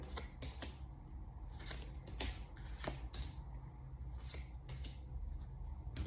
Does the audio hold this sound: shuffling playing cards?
yes